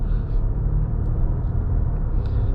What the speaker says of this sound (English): You kind of hear that gearbox just smoothly going through all those gears very calmly.